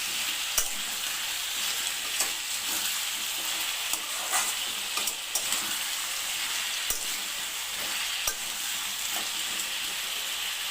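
Knol khol curry sizzles steadily in a pan with turmeric while a spoon stirs it, scraping and clinking against the pan at irregular intervals over the continuous frying hiss.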